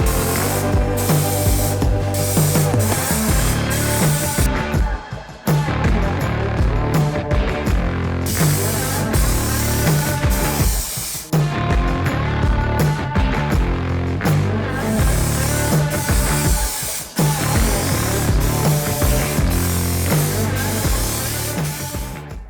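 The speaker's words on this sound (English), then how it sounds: "When spraying the tail lights with the second coat of clear" Continuous hissing spray from a spray gun applying a second coat of clear coat to Porsche 996 Turbo tail lights, steady and close, with brief pauses where the spraying stops and restarts.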